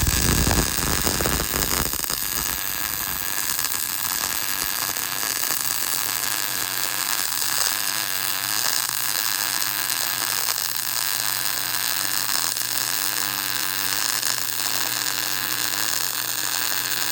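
MIG welding with a YESWELDER MIG-250 PRO welder: a steady, continuous crackling hiss runs at an even loudness through the whole stretch, starting after a brief rougher burst, with no talk over it.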